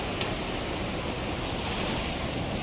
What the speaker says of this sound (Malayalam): തിരമാല ഇങ്ങോട്ട് അടിച്ചു കയറുന്നുണ്ട് കേട്ടോ.